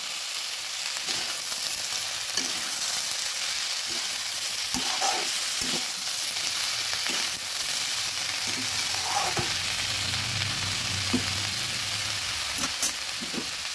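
Spring onion, cauliflower and potato frying in a pan, with a steady close sizzle throughout and repeated scraping stirs of a spatula, a few louder clanks near the end.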